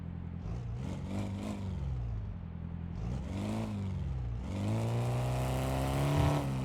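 A car engine in Car Mechanic Simulator 2026 idles roughly and revs, its pitch rising and falling through several throttle bursts before settling into a steady, higher drone.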